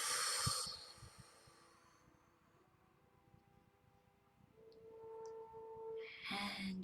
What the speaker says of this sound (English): And exhaling.